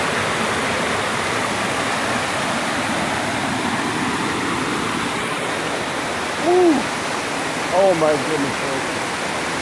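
A stream on the Hornbeck Trail rushes in a steady, loud broadband wash close by, while a person exclaims briefly over it near the end.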